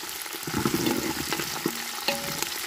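Onions sizzle and fry in a pan while a spoon stirs them, giving steady close crackling broken by occasional scraping and clinks, with no talking.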